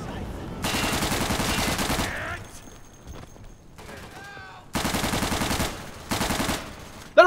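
Rapid automatic gunfire in the World War II shooter Day of Infamy, with bullets striking a soldier's radio backpack. Several loud, close bursts are separated by brief pauses with a few ricochet-like whines.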